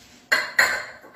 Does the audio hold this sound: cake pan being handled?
yes